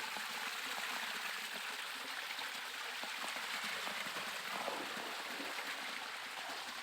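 Water flows steadily through a rock pool ringed by hills, a constant broadband rush with no pauses or voices.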